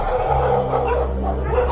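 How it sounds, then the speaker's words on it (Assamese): A pack of dogs barking and yipping close by in a yard, overlapping yaps and whimpers in a busy, continuous chorus. "চোতাল পালেহি কুকুৰৰ জাক"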